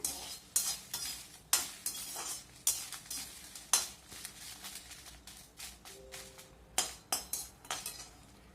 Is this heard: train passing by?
no